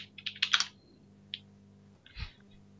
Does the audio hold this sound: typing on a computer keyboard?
yes